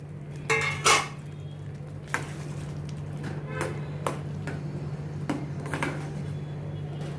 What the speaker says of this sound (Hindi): इसमें मैं अभी ये फ्राई किए हुए टिंडे और आलू डालती हूँ